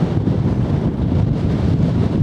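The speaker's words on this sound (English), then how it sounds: "Not much in the way of gliding going on today. Far too windy." Strong, steady wind buffets the microphone on an exposed stretch of the South Downs near the coast, a continuous low roaring rumble with gusty fluctuations and no voices.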